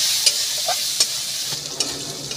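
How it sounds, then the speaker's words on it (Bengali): Salted, turmeric-dusted shrimp fry in a pan with a steady, close sizzle, broken by a few sharp pops and spatters, and no talking. "চিংড়ি মাছটা একটুখানি ভেজে নেব।"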